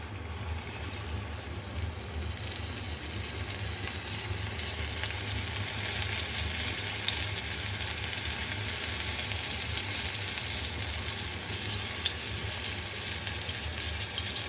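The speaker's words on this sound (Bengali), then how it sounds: "এইভাবে কোটিং করে আর একদম গরম তেলে ছেড়ে দিচ্ছি" Batter-coated paneer pakoras frying in hot oil, a loud, continuous bubbling sizzle with fine crackling that holds steady throughout, close up and without speech.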